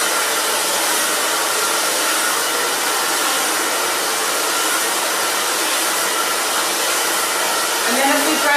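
A hair dryer blows a section of hair dry during a chunky bob styling session, a loud, close, continuous airy whoosh that holds steady throughout.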